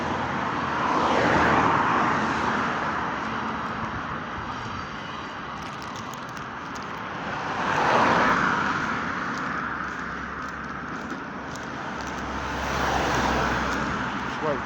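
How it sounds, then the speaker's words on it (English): Roadside traffic on a walk along a former railway route near St Albans, with broadband rumbling that swells as vehicles pass at about 1, 8 and 13 seconds, steady and fairly near throughout. "try and get away from the noise of this traffic."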